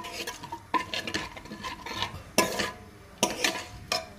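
Whole spices are lightly roasted in a pan for a tempering, with a spoon stirring and scraping against the metal in irregular clanks and rattles under a faint sizzle.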